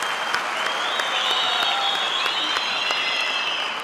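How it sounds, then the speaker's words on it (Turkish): A theatre audience at a televised talent show claps loudly for an illusionist's helpers, a dense, sustained round of applause with a few cheers rising over it. "Kuvvetli bir alkış istiyorum yardımcılarıma."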